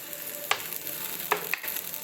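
Oil sizzling in a pan on low flame while kuchikilangu adai, a Tamil dinner flatbread, cooks; a soft steady fry hiss with a few sharp crackles and stirring clicks, close and fairly quiet, no talking.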